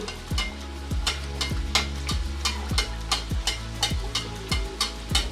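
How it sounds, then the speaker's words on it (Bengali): A puri fries in hot oil with a constant bubbling sizzle, broken by regular knocks of a utensil about twice a second, close and clear, with no talking. "আমি যেই পুরিটা বানিয়ে নিয়েছি প্রিয় বন্ধুরা সেটা কিন্তু আমি গরম তেলের ভিতর দিয়ে দিয়েছি"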